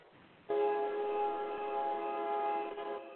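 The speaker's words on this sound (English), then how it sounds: "Am I hearing a train? I'm hearing a train." A train sounds its horn, a steady sustained harmonic blast that holds for nearly three seconds over low rumbling background, moderately distant and alone without talk.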